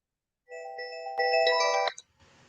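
Phone ringtone plays a bright electronic melody of sustained tones, first softer, then louder and fuller for under a second more before cutting off abruptly, followed by faint room noise.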